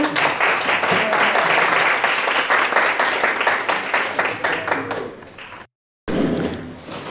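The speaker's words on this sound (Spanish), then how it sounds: "te damos un aplauso de bienvenida" Welcoming applause for a speaker at an Andalusian spiritist culture congress, dense close clapping from a hall audience that thins out, cuts briefly to silence, then resumes.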